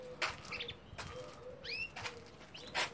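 Pet birds nesting in a cage, with several short bursts of wing flapping and soft cooing and chirping calls between them. The sounds are close by and fairly quiet.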